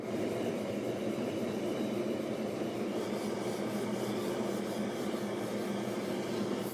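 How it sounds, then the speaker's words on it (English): Steady, continuous rasping of 320-grit sandpaper worked over a freshly sprayed lacquer finish, a close, even scratchy hiss with no pauses. "So I just got done sanding with 320."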